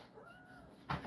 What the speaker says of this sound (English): I hear you, little cat.